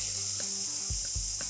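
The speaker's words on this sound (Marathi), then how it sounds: "रताळी फोडणीत घालायची।" Squeezed grated sweet potato dropped into hot tempering, a continuous bright sizzle with a few dull thuds and scraping knocks from stirring, no voices.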